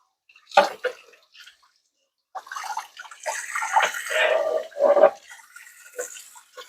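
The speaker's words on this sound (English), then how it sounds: "So that is the Amzchef all rinsed out and cleaned." Water running over the parts of an Amzchef 1902B slow juicer as they are rinsed, a short splash, a pause, then a steadier close stream of gushing and spattering tap water.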